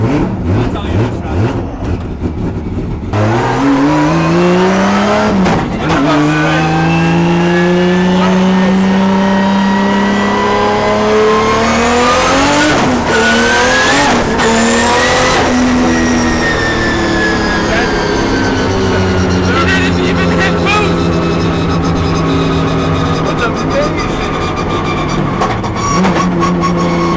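A 1000-horsepower pro drift car is driven hard, its engine revving up and down in loud, rising and falling sweeps with sharp throttle blips, while people talk over it.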